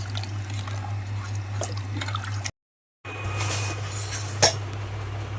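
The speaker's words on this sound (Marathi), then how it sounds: "दोन पाणी टाकून घेतले उकळी आलं की आपण कुकरला झाकून लावून घेऊया" Water being poured into a pot or pressure cooker for chicken biryani, a soft liquid trickle over a steady low hum, with a short gap and a small clink near the end.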